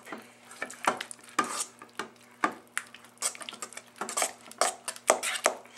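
Spoon stirring cream cheese and sour cream taco dip ingredients in a bowl, giving a run of close, irregular scrapes and knocks against the dish with no talking.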